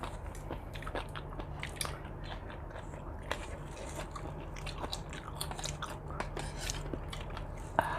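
Crunchy chewing of a spicy Thai cuttlefish papaya salad, with steady close biting and crackly crunches repeating throughout over a low constant background hum.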